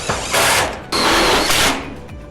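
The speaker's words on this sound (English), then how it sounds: "get a screw through the wall sheeting and one through your roof" A power drill drives a screw through steel wall sheeting of an Absco single compact garage shed, two loud whirring bursts close up with a short pause between them.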